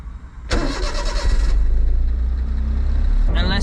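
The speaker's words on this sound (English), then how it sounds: "Start the Honda Beat." A Honda Beat's small engine cranks and catches at about half a second, then settles into a steady, close idle with a low hum. A brief higher rattle comes near the end.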